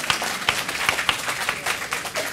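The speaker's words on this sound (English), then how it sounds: "Can we have a round of applause?" An audience at a university debate competition gives a round of applause, with dense continuous clapping and a few sharper claps standing out.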